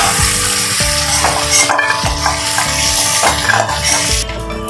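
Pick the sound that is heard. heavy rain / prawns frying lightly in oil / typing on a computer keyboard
prawns frying lightly in oil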